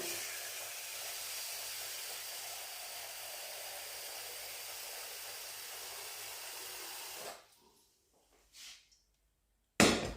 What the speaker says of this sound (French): Je vais mettre de l'eau dans ma casserole.